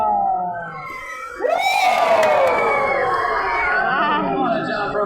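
A crowd at a zoo animal show erupts into loud cheering and shouting, children's voices whooping and screaming together after a brief quieter moment, then sustained excited chatter.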